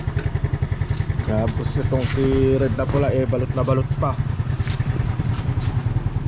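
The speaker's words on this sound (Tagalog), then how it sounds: "pinapayunat ko na rin pala yung makina ni Mio" Yamaha Mio motor scooter engine idling and warming up close by, a steady rapid putter throughout while someone talks over it.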